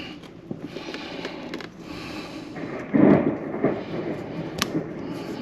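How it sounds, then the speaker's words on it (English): A rainstorm heard from inside an RV, with a steady hiss of rain and a low rumble of thunder swelling midway, then fading under the continuing downpour. "It sounds like we're getting a little rainstorm here."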